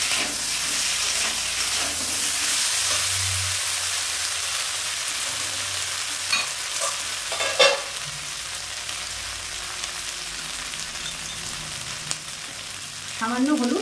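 Cumin, coriander and black pepper paste frying in a pan for a coconut fish curry, a steady close sizzle throughout with occasional scraping stir sounds and a brief louder clatter near the end.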